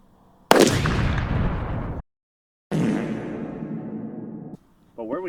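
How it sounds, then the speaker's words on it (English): A .500 Magnum revolver fires twice at a huge cast iron kettlebell, each shot a loud, sharp crack with a long ringing decay, separated by a brief gap, followed by voices starting up at the end. "Next up, we have the 500 Magnum."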